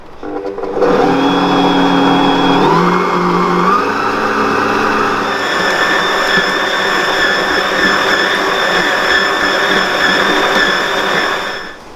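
An electric stand mixer fitted with a dough hook kneads pizza dough at medium speed, giving a loud, steady motor whine that shifts pitch a few times as the load changes, then stops.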